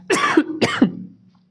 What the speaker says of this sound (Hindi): खांसी परेशान कर दी भाई।